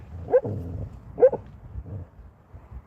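A pet dog gives two short, distinct barks about a second apart, close by and fairly loud indoors. Softer low rustling fills the gaps between them.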